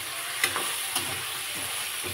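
Ingredients for a paneer curry fry in a pan with a continuous close sizzle and a couple of soft stirring scrapes, steady and without talking.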